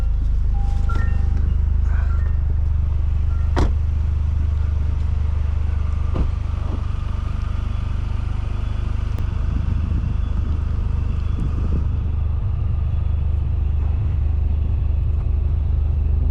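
A 2023 Toyota Corolla GR engine runs with a deep, loud, steady rumble up close, with a few sharp clicks and knocks over the idle.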